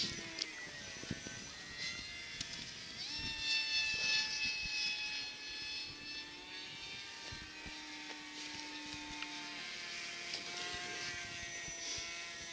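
A radio-controlled model airplane engine whines overhead, a thin high buzz that rises and falls in pitch as the plane flies at a distance, with faint wind and scattered knocks around it.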